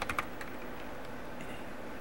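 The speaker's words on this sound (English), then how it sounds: "I'm gonna type gksu nautilus" Quick keystrokes on a computer keyboard, a short burst of clicks at the start followed by sparse lighter taps over a steady background hiss.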